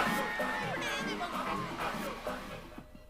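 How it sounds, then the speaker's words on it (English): A school annual day crowd gives a cheer for young performers, a lively mix of shouts, chatter and children's voices at moderate distance that fades out near the end. "Let's have a cheer for them."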